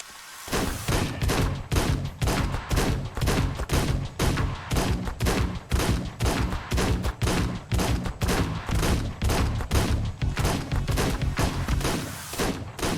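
Sustained gunfire pours into a Tyrannosaurus Rex in Ark Survival Ascended, a dense, loud fusillade of rapid shots lasting many seconds with brief rhythmic breaks, no voices.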